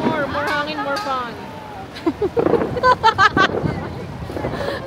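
Strong wind blowing across a boat out on open water, buffeting the microphone with a steady rumbling roar that continues beneath several people talking throughout.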